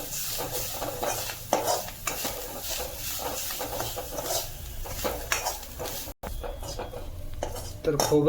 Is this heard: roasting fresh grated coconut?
yes